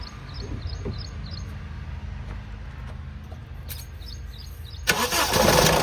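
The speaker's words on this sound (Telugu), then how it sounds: "ఒకసారి ఇంజన్ ఆన్ చేయి" A 1.5-litre i-DTEC diesel engine in a 2014 Honda Amaze is cranked and starts, with a steady low engine hum through most of the clip and a louder, broadband burst of start-up noise near the end.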